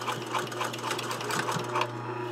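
Sewing machine stitching a sleeve cap into a garment, a close, rapid mechanical chatter with a steady pulsing rhythm running continuously at moderate loudness.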